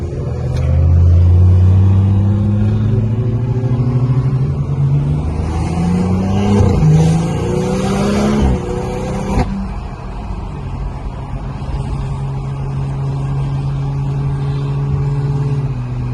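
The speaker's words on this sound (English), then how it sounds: "Got my exhaust dumping." A car with its exhaust dumped revs and accelerates on a highway at night, a loud, close engine note climbing through gear changes before settling into a steady cruising drone.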